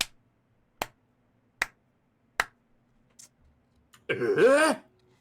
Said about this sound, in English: you start hearing this like slow clap behind you